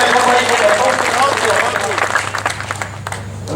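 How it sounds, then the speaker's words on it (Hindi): An audience at an All India Mushaira poetry recital in Siwa bursts into loud, dense clapping that thins and fades over a few seconds. "जरा सा एक बार तालियां बजाइए"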